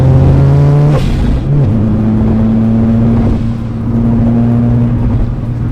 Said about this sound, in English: the sound of the Rotary engine, this is something different, something completely different